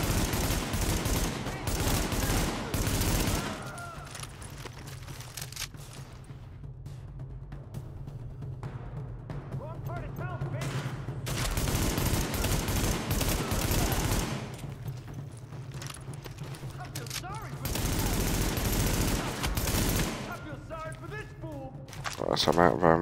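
Gunfire in the shooter game The Division, with dense bursts of rapid automatic shots in several loud stretches separated by quieter gaps, under someone talking.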